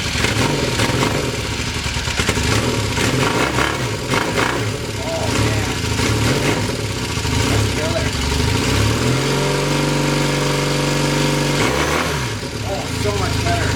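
Retro motorcycle after fixes and mods starting outdoors: engine noise churns early on, then settles into a steady close idle rumble with a couple of blips near the end.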